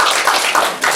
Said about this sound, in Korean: 자, 우리 이런 분에게 박수 한번 쳐주세요.